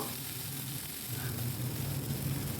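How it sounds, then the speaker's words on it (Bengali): Mustard seeds frying briefly in hot oil in a pan for an okra and taro vegetable dish, a steady dense sizzle throughout, close and even. "সর্ষেটা খুব বেশি ভাজবো না"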